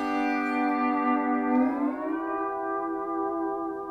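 A pedal steel guitar chord sustains, then slides upward in a smooth gliding bend as a knee lever shifts one string, settling into a steady, ringing tone, played alone with no talk.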